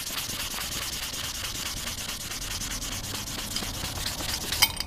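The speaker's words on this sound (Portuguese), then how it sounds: "Vamos molhar aqui a peça, tá? Ó. E também a lixa. Molhou aqui. Não tem segredo. A gente vai lixar." Wet sandpaper rubs steadily against a motorcycle exhaust pipe, a continuous close-up scratchy swishing with rhythmic strokes throughout, no talking.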